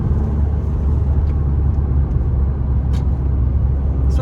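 A VW Scirocco engine is heard from inside the cabin as a steady, loud low rumble and drone of the car on the move. Brief faint ticks sound over it and no one speaks.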